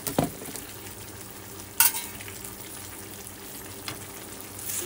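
Stuffed eggplant masala with coconut and peanut powder sautéing in a pan, a steady soft sizzle broken by a few sharp spatula clinks and scrapes against the metal.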